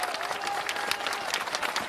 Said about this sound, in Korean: 박수를 한번 크게 올려주십시오.